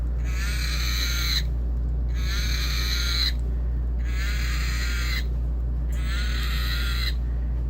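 Four harsh, electronic roars from a 1993 Kenner Jurassic Park electronic Dilophosaurus toy repeat at a steady pace, each about a second long, separated by short pauses over a constant low hum.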